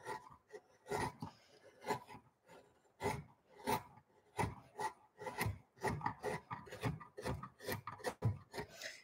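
Arbortech TurboPlane blade carving into timber and polishing its surface, heard as a series of close, rhythmic rasping strokes in repeated bursts, with no talk.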